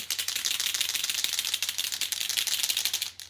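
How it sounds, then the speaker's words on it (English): Paint pens for rock painting shaken hard to mix the paint, a fast continuous rattle of the mixing balls clicking inside, loud and close, running steadily for about three seconds before stopping. "Make sure your pens are nice and shook up."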